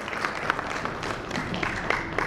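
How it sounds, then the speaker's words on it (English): Applause from a conference audience for a banking panel, a dense wash of clapping with a few sharper claps standing out, steady and moderately loud through the short stretch. "Huge round of applause for him as well."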